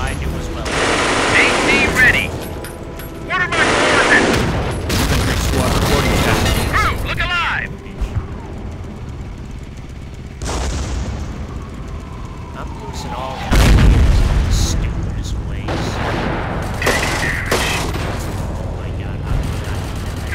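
A machine gun bunker in Company of Heroes rattles out long bursts between booming explosions and battlefield clatter, loud and close, with voices speaking over the fighting.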